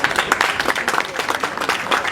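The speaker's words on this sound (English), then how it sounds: "I think we should give a round of applause to" A crowd at a wedding celebration breaks into a round of applause, a loud, close burst of many hands clapping continuously for a couple of seconds, with some voices mixed in.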